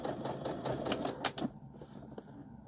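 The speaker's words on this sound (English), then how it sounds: "Don't want to sew over that pin." Home sewing machine stitching fabric for a casserole carrier, a quick rattling run of needle strokes that stops after about a second and a half, followed by quiet.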